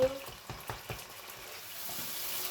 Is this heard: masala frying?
yes